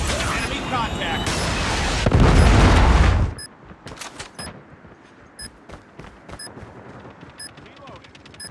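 Predator missile strike in Call of Duty Mobile Demolition on the Take Off map: a loud, roaring blast that swells for a few seconds, then cuts to quieter scattered gunfire and clicks.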